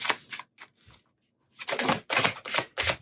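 Tarot cards being shuffled by hand, a few short papery riffles followed by several louder bursts of rapid card flutter, close by and with no talking.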